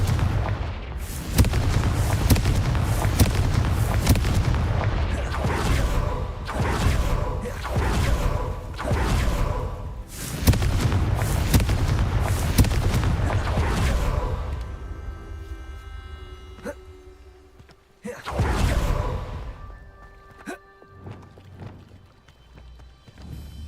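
Booming blasts from Confringo explosion spells cast in the video game Hogwarts Legacy, a rapid, heavy series of loud impacts for about fifteen seconds, then a quieter stretch with a few scattered bursts and game music.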